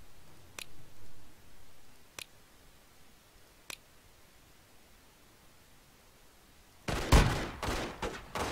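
A train-mounted gun in the western game Bounty Train fires a rapid, dense burst of loud shots near the end, after a long quiet stretch broken only by a few sharp, isolated clicks.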